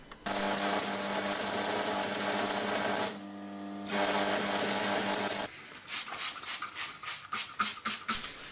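An electric welder runs on a chain axe handle with a loud, steady buzzing crackle that breaks briefly once and then resumes. It ends in a series of short, rhythmic tacking or tapping bursts.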